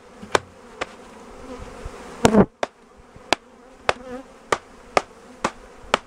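Honeybees pour out of a bee package, a soft buzzing swarm punctuated by a series of sharp knocks and taps at regular intervals, with one louder rattling bump, close by and without talk.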